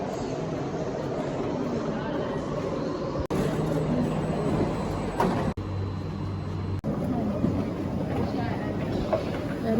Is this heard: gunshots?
no